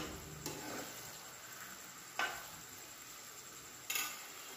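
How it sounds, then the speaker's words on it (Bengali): Raw mango Kashmiri pickle with ginger pieces is stirred in a pan, faint soft scraping and a soft sizzle broken by three sharp spoon clinks against the pan, with no talking. "আর দেব আদার টুকরোগুলো দিয়ে আবার ভালো করে নাড়বো।"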